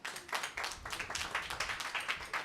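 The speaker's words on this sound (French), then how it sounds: "Est-ce qu'on peut applaudir pour Raquel Malonga?" Audience clapping for a sapeur at an International Day of Peace celebration, a quick run of dense hand claps, moderately faint and steady.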